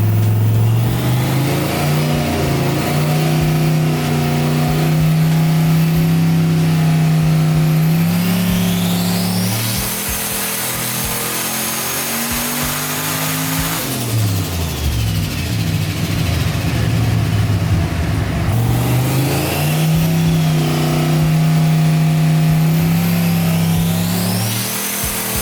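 A turbocharged 5.3 V8 in a Camaro revs hard under boost, rising and falling through two long pulls with a steady mechanical drone between them, loud and close with no voices.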